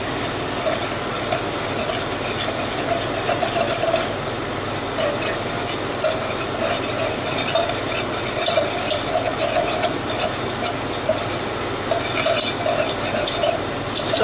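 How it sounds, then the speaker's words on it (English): Flour and mustard being stirred vigorously in a hot pan for a veggie macaroni bake, a continuous scraping, rasping sizzle kept up steadily without pause and with no talking. "now we're going to stir like mad"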